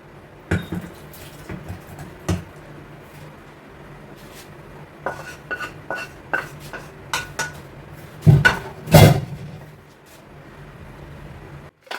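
Cooked meat and vegetables are moved from a pressure cooker into a Maggi bowl with scattered metallic clinks and clatters. A louder cluster of scraping and knocking comes near the end against a quiet background.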